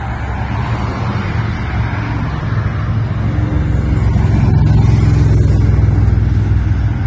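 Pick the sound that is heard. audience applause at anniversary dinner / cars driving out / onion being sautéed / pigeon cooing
cars driving out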